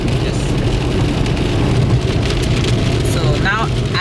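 Rain patters steadily on a car driving through near-freezing weather in Spain, a dense, loud wash of drops with road rumble beneath and a faint voice near the end.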